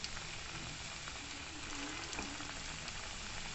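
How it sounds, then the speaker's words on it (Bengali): Gujiya pastries deep fry in hot oil with a steady, dense sizzle and crackle. The sound holds even and unbroken throughout, close and moderately quiet, with no talking. "এবারে আমি গুজিয়াগুলোকে একটা একটা করে তেলের ওপরে ডিপ ফ্রাই করবো বলে ছেড়ে দিচ্ছি।"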